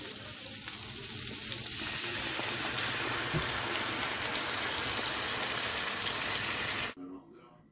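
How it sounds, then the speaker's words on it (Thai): Venison meatballs frying in butter with fresh milk, giving a loud, continuous sizzle that fills the pan sound for several seconds before cutting off abruptly into quiet. "จะปั้นเป็นก้อนๆแล้วก็ทอดค่ะ ทอดใส่เนย"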